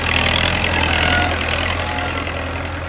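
An HMT 6522 tractor engine runs in third gear, a steady loud diesel rumble with a constant low throb that eases slightly in level toward the end.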